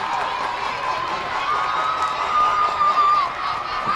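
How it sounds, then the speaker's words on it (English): A baseball crowd at TD Bank Ballpark builds a rhythmic two-strike clap and scattered cheering, a broad, distant wash of many voices and hands filling the stadium. "as a 2-strike clap picks up once again"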